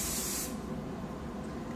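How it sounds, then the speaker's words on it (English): Chi hairspray sprayed onto hair in one strong, steady hiss lasting about half a second, followed by quiet room tone. "spray my whole hair kind of doing the same thing, lifting and spraying with the Chi hairspray"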